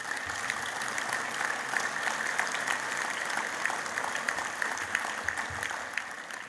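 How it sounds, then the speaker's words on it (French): An audience applauds during a French official speech honoring protectors of the population, moderately loud sustained clapping with scattered sharper claps in a hall. "oui, vous pouvez applaudir."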